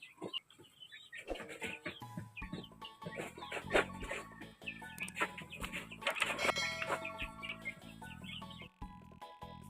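A brooding hen sitting on a nest of about a dozen eggs clucks repeatedly in a steady, busy stream, with other chicken calls mixed in nearby and no talking.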